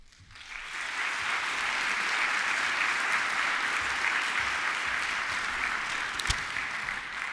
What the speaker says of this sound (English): You should never applaud until you hear the speech.